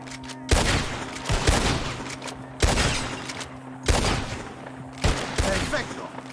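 Gunfire in Red Dead Redemption 2, four loud, sharp shots spaced about a second or more apart, each with a rumbling echo tail, over a low steady hum and faint background voices.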